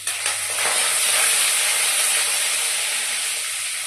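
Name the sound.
curry leaves sizzling in hot oil for fish curry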